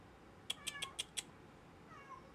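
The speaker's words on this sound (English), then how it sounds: "one of my three kitties. It sounds like Macy." A pet house cat gives a quick run of five short, chirpy meows, close together and fairly quiet, followed by a fainter, drawn-out call after a brief pause.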